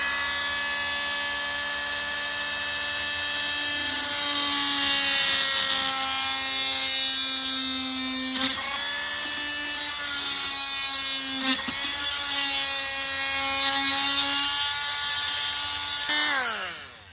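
A small high-speed rotary tool cuts a rectangle into a plastic panel, a steady, shrill whine that dips briefly in pitch as the bit bites into the material, then winds down at the end.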